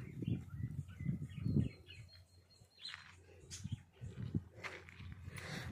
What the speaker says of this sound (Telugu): పక్షులు కనపడపోయినా పక్షులు రాగాలు వినపడుతున్నాయి కదా